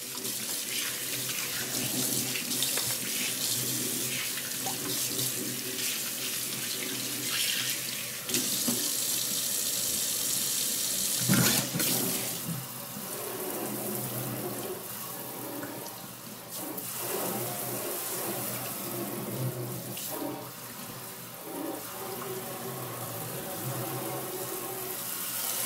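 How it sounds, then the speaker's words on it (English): Steady rush of water from a household tap rinsing out a soapy cleaning sponge in a sink, continuous and close, with brief splashy changes as the sponge is worked under the stream. "And then you just simply rinse it out."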